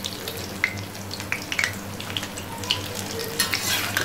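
Maida pakoras frying in a pan of oil, a dense continuous bubbling sizzle with scattered sharp pops and crackles, close-up and without speech.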